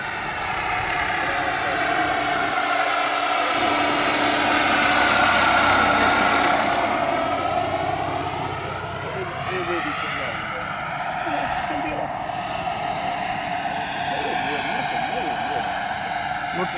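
A turbine-powered Airwolf scale model helicopter flies at Dalton, its steady high turbine whine and rotor hum shifting in pitch as it passes nearby, loud and continuous.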